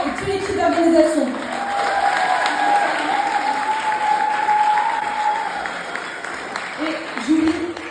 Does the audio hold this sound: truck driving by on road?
no